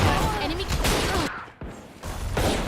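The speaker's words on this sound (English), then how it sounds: "Some sheriff shots going through" Sheriff pistol shots in the Valorant video game ring out in a quick burst, a few sharp cracks under excited esports commentary, followed by a brief quiet gap before noise resumes.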